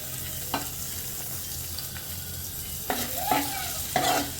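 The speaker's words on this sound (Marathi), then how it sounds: "आता हे जे तूप आणि कांदा मिरची जे आहे ते मी कढईमध्ये आपलं कुकरमध्ये ओतते" Ghee with onion and chili tempering being poured into a pressure cooker, giving a steady low sizzle with a few short bursts of stirring and scraping near the end, with no voices.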